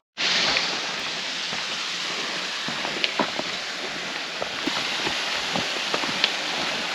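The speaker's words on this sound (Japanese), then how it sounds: "あ、滝の音聞こえてきたんじゃん。" A small waterfall, water flowing, heard as a steady, broad rushing wash with a few faint clicks and footstep-like taps over it, moderately distant and unvoiced.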